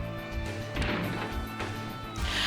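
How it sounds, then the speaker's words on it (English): A door is smashed open in an anime scene, a sudden heavy crash and thwack standing out over a dense, busy soundtrack of music and effects. "Then Elgar Roddick smashes open the door and he tells Shawnee to step back."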